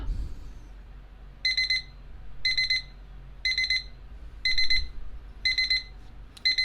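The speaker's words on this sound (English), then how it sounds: "let's listen to the alarm sound" A Bauhn wireless charging alarm clock beeps in quick, shrill pulsed bursts, repeating about every second, loud and close over a quiet background.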